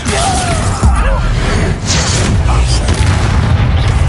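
Loud, dense blasts of a fire spell in Hogwarts Legacy, booming and crackling with whooshing bursts that run almost continuously and close up, with a spoken voice mixed in.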